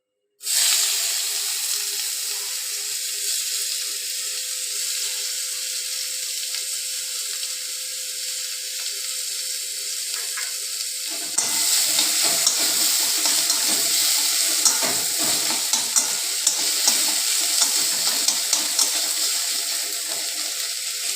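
Chopped onion hits hot oil in a pan already holding nigella seeds and a bay leaf, and a steady loud sizzle with crackle swells suddenly partway through, continuous and close with no talk.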